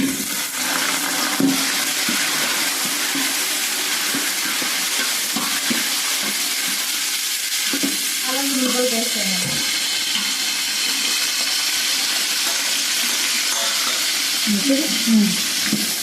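Onions frying and roasting in a pan, with a steady broadband sizzle running throughout and a few faint stirring scrapes, close and moderately loud, no voices.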